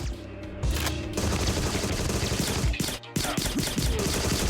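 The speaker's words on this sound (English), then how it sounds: "I really want to try using the machine gun." Rapid machine gun bursts in the first-person shooter Agent 64: Spies Never Die, dense continuous gunfire with booming impacts and a brief pause near the end, loud and close with no talking.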